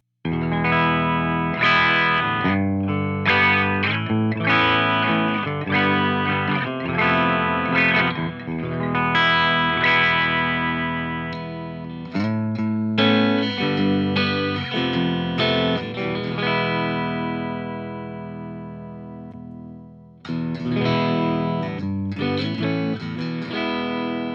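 An electric guitar plays through a heavily distorted ENGL Ironball amp, chords and riffs ringing out loud and continuous, with a brief pause before the playing resumes.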